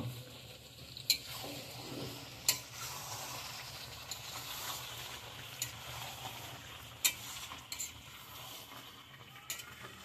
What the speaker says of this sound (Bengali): ঘি দিয়ে আবার একটু নেড়ে চেড়ে কষে নেব